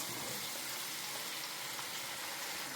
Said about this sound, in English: Now to fry the stew in the same oil